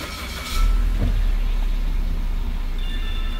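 A 2019 Suzuki Vitara's engine cranks and catches, a brief starter burst followed by a steady low idle rumble that holds close and even, with a faint high tone near the end.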